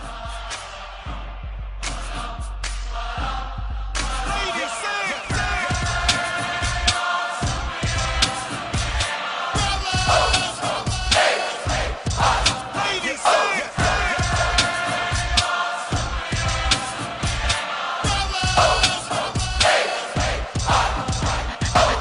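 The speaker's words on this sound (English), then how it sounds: "so listen to this crowd just a moment" A loud, dense crowd roars and cheers after a touchdown at a football game, sustained yelling and whooping that swells and pulses for over twenty seconds without commentary.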